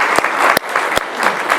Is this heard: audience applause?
yes